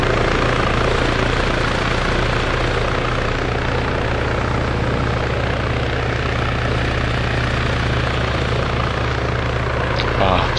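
Helicopter in flight in ARMA 3, a loud steady rotor and engine drone with a low hum holding throughout, close and continuous under occasional talk.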